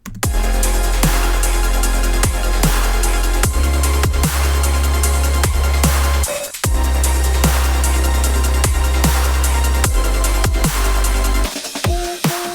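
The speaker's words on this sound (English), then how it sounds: "This is where the future bass chords come in and they really just" Loud, lush future bass synth chords pulse over thumping bass kicks and crisp percussion, with a brief drop near the middle before the full sound returns.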